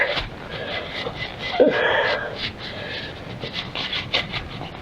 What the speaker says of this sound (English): you just want to just try to get the junk off the rotor